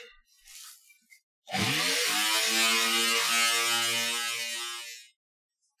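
Wet sanding of spray-painted guitar paint with 2500 grit sandpaper, a steady close rasping scrub that starts abruptly after a faint rustle and holds loud for about four seconds before stopping.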